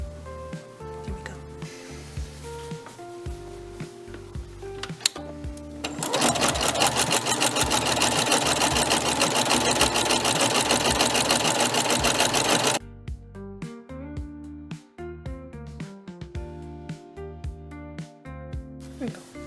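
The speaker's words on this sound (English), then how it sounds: "I've sewn and zigzag stitched along both sides." A sewing machine zigzag-stitches fabric for a Jedi cosplay costume, running in a steady rapid whir for several seconds between quieter handling and clicks, close and moderately loud with no talk.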